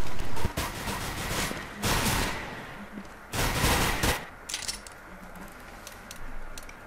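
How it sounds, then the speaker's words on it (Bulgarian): Gunfire from Counter-Strike: Global Offensive, with loud rapid bursts of shots in several clusters and fainter clicks and distant shots between them. "Чувам изстрелите."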